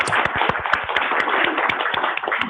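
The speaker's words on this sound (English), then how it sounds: "to everyone here in the room to again offer a rousing round of applause" Audience applause in a conference room after morning speakers at an environmental science event, a steady dense patter of many hands clapping throughout, fairly loud and without talk.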